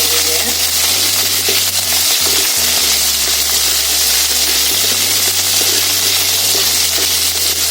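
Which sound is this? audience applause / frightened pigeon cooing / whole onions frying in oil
whole onions frying in oil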